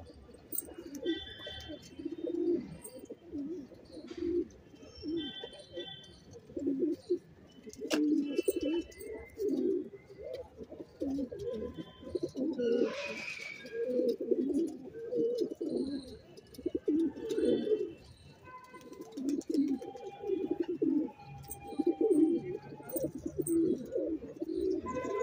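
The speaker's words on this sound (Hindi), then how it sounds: "ये कबूतर है भाई" Pigeons kept for flying coo softly and repeatedly from close by, a continuous overlapping burble of low calls with a brief flutter partway through and no talk.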